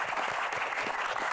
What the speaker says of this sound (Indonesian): Tepuk tangan dulu buat Yarni.